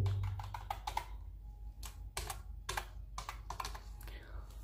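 Keys clacking as code is typed on a computer keyboard for an Arduino program, a steady run of close, sharp taps in irregular bursts with brief pauses between them.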